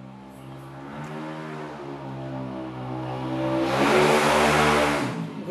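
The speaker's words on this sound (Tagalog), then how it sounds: "Grabe yung dumadaang mga nakamotor." Motorcycles and other traffic pass along a road while food is served, a steady engine hum swelling into a loud close rev and whoosh near the end.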